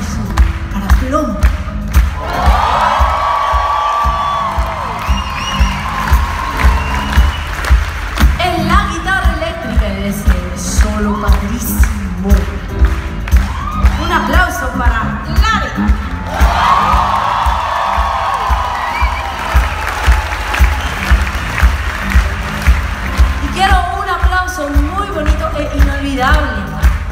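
Concert crowd at the Plaza Theatre in El Paso cheers and shouts during a show, over a steady bass-heavy band beat, with an announcer's voice heard between bursts.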